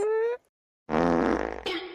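A loud, buzzy fart sound close up, following a brief tone and a moment of silence.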